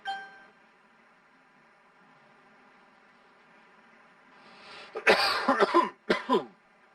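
A few harsh coughs close by, coming in two quick bursts near the end after a stretch of quiet, faint hum.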